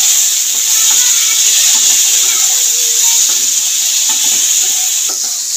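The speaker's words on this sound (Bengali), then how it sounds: "নুন দিয়ে সবজিটা ভাজা হয়েই এসছে" Vegetables salted and frying in a pan give off a loud, continuous hissing sizzle with scattered scrapes and clicks of stirring throughout.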